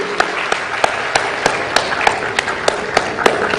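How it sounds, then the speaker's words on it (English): An audience at the Ghana Teacher Prize 2025 award ceremony applauds the prize recipients with loud, sustained clapping that carries a steady, regular beat and fills the room. "Big round of applause."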